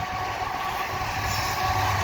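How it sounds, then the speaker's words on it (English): A CSX freight train passes near the Des Sources overpass on a windy day in Montreal, making a steady, continuous rumble and rolling roar with no voices. "I got the CSX train here at the Des Sources overpass"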